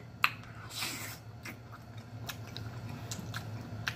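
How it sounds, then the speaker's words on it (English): A close bite into a cheesy, breadless Wendy's double cheeseburger sprinkled with cayenne: one sharp, crisp bite near the start, then soft, wet chewing and faint mouth sounds over a quiet indoor hum. "Let me give y'all the first bite."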